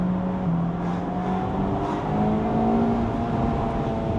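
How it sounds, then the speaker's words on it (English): A Mazda MX-5 engine hums steadily while driving, a continuous low drone with slowly rising pitch and no talk over it. "You hear the engine more."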